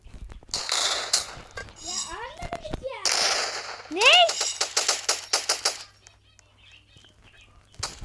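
Rapid bursts of gunfire from the battle-royale video game PUBG crackle loudly in quick rattling volleys, with a pause near the middle and more shots before fading out; a player talks over parts of the gunfire.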